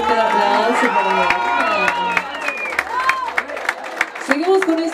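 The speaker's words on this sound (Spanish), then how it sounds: "Fuerte el aplauso para mí." Applause and clapping from the audience at a quinceañera, with crowd noise beneath a mariachi band playing and singing over it.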